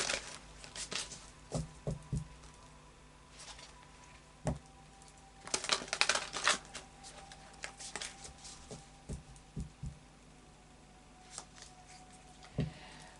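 Oracle cards are shuffled in irregular soft flurries of papery riffles and taps, close and fairly quiet, with gaps between handfuls.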